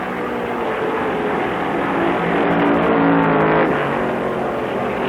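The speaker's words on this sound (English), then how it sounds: "A duel of blood-red cars, and Isaac sweats blood before his number 35 finally overpowers the number 41 Ford." Stock race cars, including a Ford, roaring past during the 1965 American 500, a sustained loud engine drone that swells and holds with no voices.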